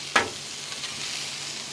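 A big hunk of butter hits a hot pan with a sharp initial sizzle, then settles into a soft, steady bubbling hiss, close by with no voices.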